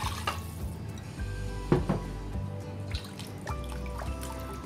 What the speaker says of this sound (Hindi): अब बाकी का चिकन स्टॉक डाल दूंगी